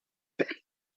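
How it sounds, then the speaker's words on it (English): A single short, chesty cough from a councillor during a city council meeting, close and fairly loud, in otherwise near silence, with the start of another sound at the very end. "a bit of a chesty cough"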